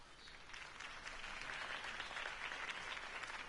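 A crowd claps and applauds at a distance in the video game The Telltale Series: Batman, a steady wash of hands clapping that builds slightly and holds without speech.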